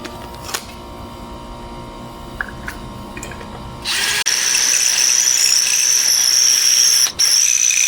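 A power drill starts up partway through and whines steadily at high pitch, loud and close, after some quieter clicks and handling.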